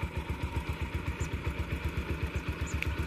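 A Bajaj Pulsar motorcycle idles on its stock exhaust, the engine putting out a steady, rapid low thumping pulse, close and fairly mild, with no talking.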